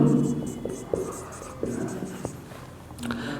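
Marker or chalk writing an example on a classroom board during an accounting lecture: close scratchy strokes and taps in short irregular bursts, with a faint voice at times.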